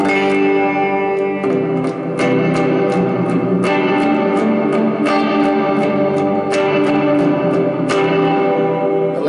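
Electric guitar played through a reverb pedal, either a Danelectro Spring King or a Boss RV-6, with loud sustained chords and picked notes blooming into a wash of reverb tail, struck in a loose repeating rhythm.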